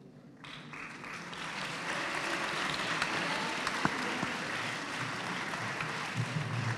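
An audience at a school project presentation in Valparaíso breaks into applause, starting quiet and swelling into steady, moderately distant clapping that carries on throughout with no voices over it.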